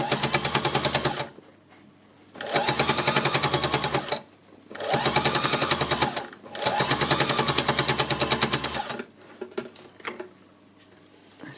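Needle-punch embellishing machine driving its needles through fabric in loud rapid mechanical bursts, four runs of steady chattering with short quiet pauses between them, no talk.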